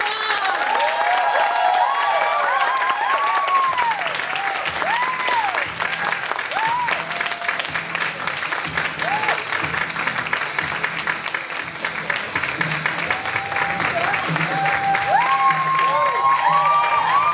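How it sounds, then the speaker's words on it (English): Sustained audience applause at a live speaking event held at a Starbucks, dense steady clapping filling the whole stretch with some faint cheering and crowd voices mixed in. "let's give a big round of applause to Dato Ruby Khong."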